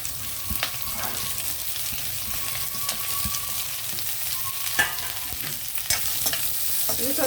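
Onions, carrot and green chillies frying together in a pan give a steady, close sizzle, with the scrape of stirring now and then and a few louder clicks. No one speaks.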